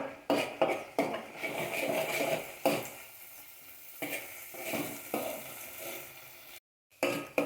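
A spoon scrapes and clinks against a pan while tomato paste roasts for a chicken curry, with soft sizzling under repeated close stirring strokes, fairly quiet and with no voices.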